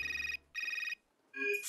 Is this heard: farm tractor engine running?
no